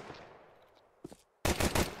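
Gunfire in a Counter-Strike match on the Mirage map: after faint distant shots, a loud burst of rapid automatic fire erupts in the final half-second with no talk over it.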